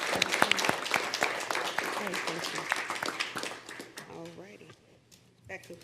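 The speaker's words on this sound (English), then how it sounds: "We want to give those all individuals a round of applause" Applause at a board meeting after staff promotions are announced: a burst of clapping from a modest crowd that thins and fades out midway, followed by quiet murmuring and a voice speaking.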